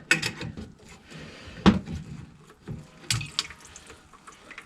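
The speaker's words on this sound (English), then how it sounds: "Voila, it started dripping." Water trickles and spatters from a loosened fitting on a boiler pump during replacement, a faint, uneven patter with a few louder knocks of handling, no talk.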